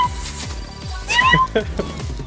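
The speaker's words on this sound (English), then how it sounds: "Cat game." A cartoonish cat meows a few times in an indie video game shown at an E3 showcase, heard over game music and sounds with people talking alongside.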